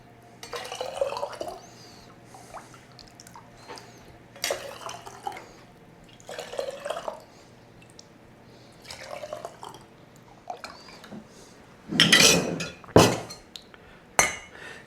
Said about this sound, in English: my stock is hot, and we can start filling the jars